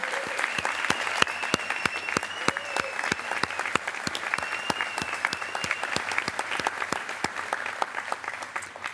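An audience at a county address applauds steadily throughout, many hands clapping at a brisk even rhythm, fairly close and sustained without fading.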